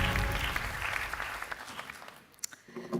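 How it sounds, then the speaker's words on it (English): Applause from a film festival awards audience, loud at first and then thinning into scattered, sparser claps as it dies away. "A big applause for Xavier."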